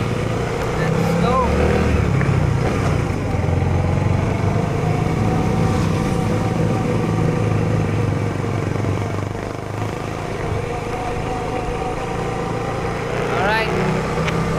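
A motorcycle engine drones steadily as it is ridden, with wind and road noise blending into the hum and a brief sharper rev near the end.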